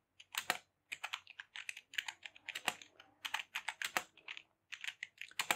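Python code is typed on a computer keyboard in quick irregular clusters of sharp close key clicks, steady and alone with no voices.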